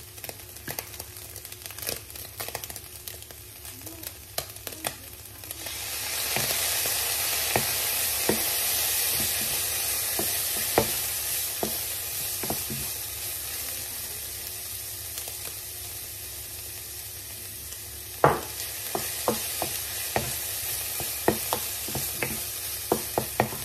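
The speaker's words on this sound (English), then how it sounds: "now we will add the soy sauce or dark soy sauce" Soy sauce goes into a sizzling stir-fry of glass noodles and shiitake mushrooms, the frying surging louder partway through, with frequent sharp clicks and scrapes of stirring and tossing in the pan.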